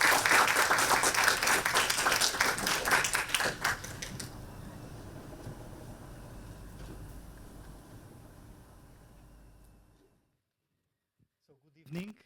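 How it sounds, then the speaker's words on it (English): An audience applauds a speaker at an exhibition sharing session, with a dense burst of clapping that thins out and fades away over several seconds into silence. "Please welcome with a round of applause to Professor"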